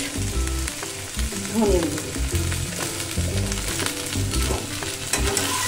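Cumin seeds, green chilli and ground spices fry in a hot pan for a vegetarian dahi bhindi, a loud, continuous sizzle with scattered utensil knocks, while a person speaks briefly over it.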